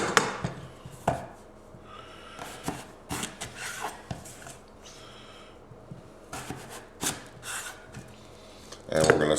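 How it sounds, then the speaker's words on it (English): A knife cuts potatoes into wedges on a board, giving repeated sharp chops at an uneven pace, close by, while a person talks over the work. "I cut them into thirds to where I end up with roughly 6 potato wedges per potato"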